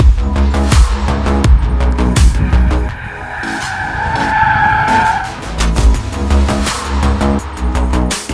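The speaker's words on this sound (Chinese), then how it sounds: "开着一辆驾驶感受非常好的车，行驶在山路里" Mazda 3 or CX-30 driven hard on a winding mountain road, loud engine under steady acceleration with tire squeal and skidding, close and continuous with no talk.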